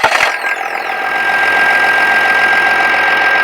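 A 2021 Chevrolet Tahoe with the 3.0-liter diesel engine starts up with a brief crank, then settles into a loud, steady idle with a gritty, clattering diesel rumble.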